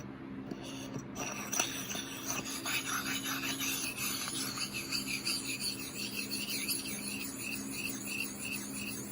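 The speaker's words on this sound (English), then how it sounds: "So it starts off sounding like gravel, and then it just smooths right out" Abrasive PFG stone rubbing a scratch out of a stone surface, a steady close gritty rasping that starts coarse like gravel and then smooths into an even scrubbing hiss, with no talk.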